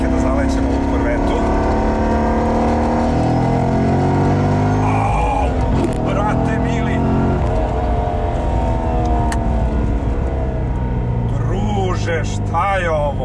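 A Corvette Z06 with a 7000 cc, 505 hp V8 drives along with a loud, steady engine drone that climbs in pitch as it revs, while people talk over it inside the car.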